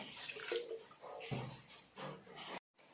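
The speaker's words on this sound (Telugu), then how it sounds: "ఒక ఒక్క టంబ్లర్ నీళ్ళు పోసినాను నేను ఇది మునిగేంత వరకు" Water poured from a tumbler into a bowl of hair tonic ingredients, a close splashing pour in uneven bursts that stops abruptly near the end, then a faint trickle.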